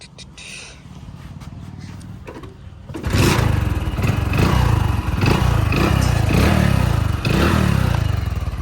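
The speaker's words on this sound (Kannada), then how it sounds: "ಗಾಡಿ ಆಟ ಚಾಲು ಮಾಡಿ ಹೆಂಗೆ ಬರ್ಬೇಕು ನೋಡ್ರಿ ಈಗ ಸೌಂಡ್" A serviced motorcycle engine fires up after a few seconds of quieter shop noise, then runs loud and close with a steady rhythmic throb and slight pulsing revs.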